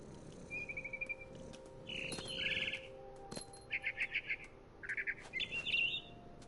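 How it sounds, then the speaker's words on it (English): Bird chirping from the mother bird in the video game What Remains of Edith Finch, with repeated short bursts of bright tweets and trills over a soft ambient forest bed, no talking. "All I cared about was eating that mama bird."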